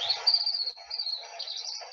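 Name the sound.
birds chirping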